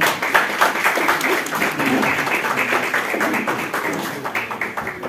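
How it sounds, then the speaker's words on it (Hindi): Hall audience at a national seminar in a government college claps to welcome a guest, a dense, lively round of applause that stays strong before easing slightly at the end. "एक बार मैं चाहूंगा कि आप जोरदार तालियों से स्वागत करें"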